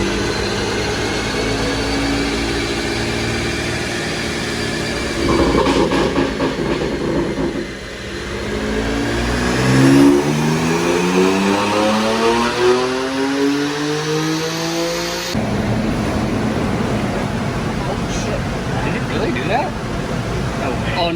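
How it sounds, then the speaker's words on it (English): A BMW M4 GTS engine revs hard on an all-wheel-drive Dynojet dyno inside a shop, loud and close, its pitch climbing in long sweeping pulls through the gears before cutting off, with a steady drone continuing afterward. "So we just ran it on the dyno"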